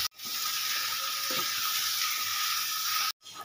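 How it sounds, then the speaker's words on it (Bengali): Chicken with ground spice paste fries in a pan with a continuous close sizzle and hiss, cut off abruptly near the start and again just before the end. "মশলাটা দিয়ে আমি 3 থেকে 4 মিনিট ভালো করে কষিয়ে নিই"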